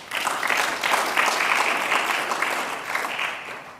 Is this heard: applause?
yes